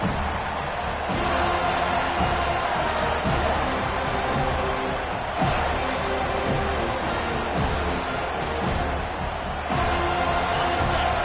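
A stadium crowd in a Madden football video game keeps up a constant loud roar throughout, with periodic sharp thumps and bursts cutting through the steady wash of noise.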